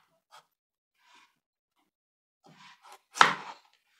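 A kitchen knife slices through a carrot on a cutting board, with a few faint taps followed by one sharper, louder chop near the end in a quiet room.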